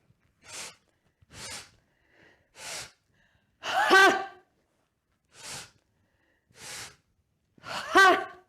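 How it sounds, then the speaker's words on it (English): Forceful yoga breathing: a series of short, sharp nasal breaths, then two loud open-mouthed exhales, each burst separated by silence, close and alone. "Big breath in. Ha!"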